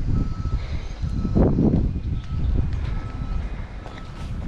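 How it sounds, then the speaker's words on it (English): A four-wheel truck reverses nearby at an outdoor factory site, its backup beeper sounding steadily over rumbling engine and ambient outdoor noise. "So it's not abandoned here because there's like a four wheel"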